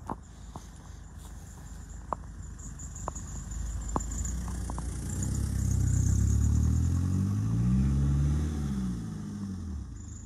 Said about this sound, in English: You heard how that car just scraped going over it.